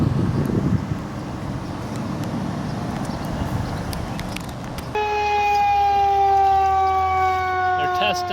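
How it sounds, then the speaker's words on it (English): A steady tornado siren test wail rises in after several seconds of rumbling outdoor noise with wind, holding a sustained tone to the end. "They're testing the tornado siren, apparently."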